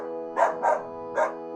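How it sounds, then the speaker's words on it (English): A dog barks three times in a cartoon animation, giving two quick barks and then a third after a pause. The barks are close and clear against a steady tonal background. "Yorick suddenly started barking at Mrs. Van Dyke"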